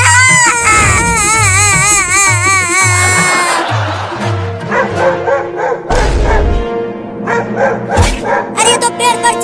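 A dog in a comedy sketch barks loudly in repeated yelping bursts while trying to climb a tree, close and shrill, mixed with excited voices and background music.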